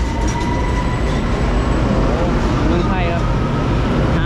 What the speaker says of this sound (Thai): รถไฟมารับประชาชนนะครับ